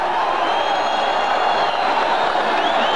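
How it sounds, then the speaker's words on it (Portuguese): A stadium crowd in Maringá applauds boxer Maguila at a 1991 Brazil-Argentina bout, a steady wash of distant clapping and cheering filling the space with no voice over it. "vai sendo bastante aplaudido pelo povo de Maringá"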